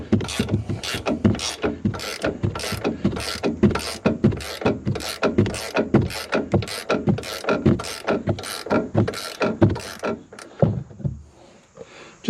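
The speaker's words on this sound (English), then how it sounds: "now I'm using ratcheting wrench" A ratcheting wrench loosens 18mm bolts on a 2021 Chevrolet Silverado during a leveling kit and strut job. It gives a long, steady run of about twenty sharp, close ratchet clicks in an even rhythm, then slows and stops near the end.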